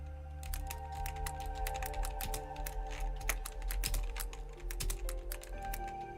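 A computer keyboard tapped to enter a web search, with quick, uneven keystrokes clicking close by for several seconds over a low steady hum, with no talking.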